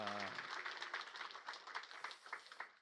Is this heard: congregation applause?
yes